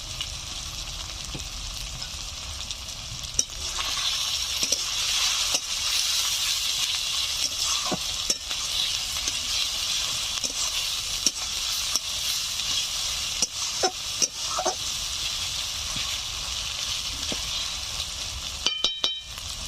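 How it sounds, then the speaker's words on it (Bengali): Spices and slit green chillies fry in a pan with a loud, continuous hiss and sizzle, broken by intermittent stirring scrapes and taps close by, ending in a few sharp clicks. "মশলাগুলো 3-4 মিনিট নাড়াচাড়া করে নিয়েছি"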